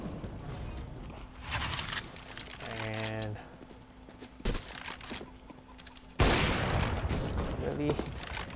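Counter-Strike: Global Offensive gunfire sounds as several bursts of shots, with a loud sharp blast near the end over busy game noise.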